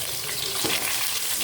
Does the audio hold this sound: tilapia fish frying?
yes